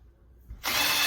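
A power drill bores holes through a garage floor into the crawl space below; after a quiet moment with a faint thump, a loud steady whirring grind starts abruptly and runs on alone.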